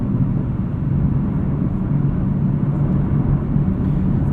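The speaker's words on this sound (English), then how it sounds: "A little bit of road noise, a little bit of wind noise." Steady low road rumble and wind rush fill the cabin of a 2018 Chevrolet Camaro 2SS with a six-speed manual cruising on the highway, an even, constant drone with no speech.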